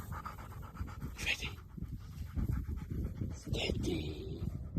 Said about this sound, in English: Very cute dog.